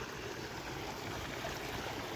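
Water running out of an irrigation outlet by a canal ditch in a Spanish village, a faint, steady rushing flow heard alone at a distance.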